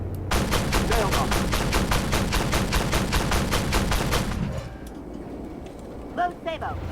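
Tank gunfire in the Armored Warfare video game: a fast, loud burst of about twenty evenly spaced rapid shots lasting several seconds, then a low rumble and a brief chirping blip.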